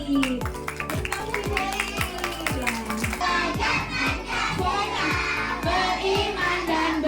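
Children in a school class crowd clap and shout loudly for their teachers, continuous mixed applause and excited cheering with bursts of voices, close and sustained throughout.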